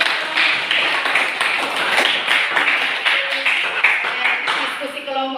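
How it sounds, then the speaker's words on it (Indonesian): Classmates clap for a group after its discussion presentation during a teaching practicum, a steady patter of many hands with voices talking throughout. "Oke, tepuk tangan untuk"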